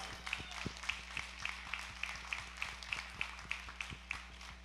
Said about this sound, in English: let's have a big round of applause for our volunteers